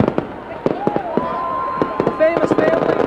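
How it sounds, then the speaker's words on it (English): Grucci fireworks bursting over the Las Vegas Strip on New Year's Eve, a run of sharp explosive bangs and crackles at irregular intervals, some whistling trails, with voices talking underneath. "The fireworks have already begun. We're seeing fireworks from the Grucci family."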